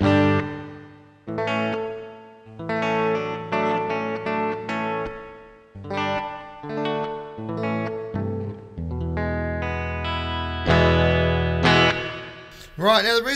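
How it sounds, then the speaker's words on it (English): Electric guitar notes and chords ring out through a huge hall reverb turned all the way up on a Flamma FX50 headphone amp, each phrase washing into a long, lush tail that swells and lingers. "My favorite's the hall. I'm gonna crank the hall all the way up."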